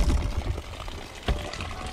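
Spring water gushes from the ground like an open faucet near Uwangan Falls in Tabuelan, a brief, close, steady splashing and gurgling pour.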